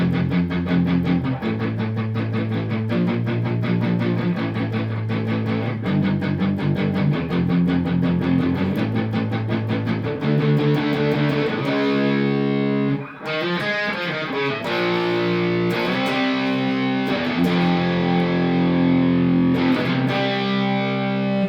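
Distorted electric guitar chugs through the verse riff of a song, power chords on F repeating in a driving rhythm, with brighter layered parts joining partway through.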